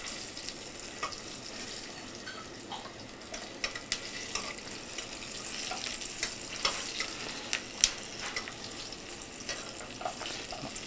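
Flour frying in oil in a pan in a traditional home-style restaurant kitchen gives a soft, steady sizzle, dotted with small irregular pops and clicks up close.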